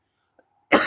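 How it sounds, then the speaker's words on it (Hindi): A single short cough bursting out near and loud at the end, after near silence with a faint tiny click, from a man pausing mid-lesson. "सॉरी, थोड़ी सी खांसी आ गई"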